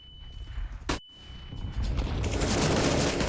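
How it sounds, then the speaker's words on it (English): Grenade explosion and gunfire in a professional CS:GO match on Dust2: a sharp burst followed by a sudden drop, then dense, rising gunfire that grows loud and continuous toward the end. "Good nade damage and support from Sheikh Zula"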